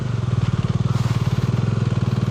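A motorcycle climbs a narrow, broken mountain road, its engine a steady fast low throb close by and loud, with no talk.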